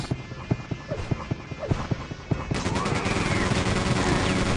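Rapid weapon fire against enemies in Quake 2: sharp, evenly spaced shots for the first half, then a dense, continuous roar of gunfire and combat noise that stays loud to the end.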